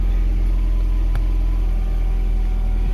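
A car engine, cold and with recent work done, runs loud and steady at close range, a deep rumbling idle that holds for the whole stretch with no voices.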